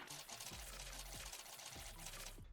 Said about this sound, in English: Now, let's fill in the pond with some water.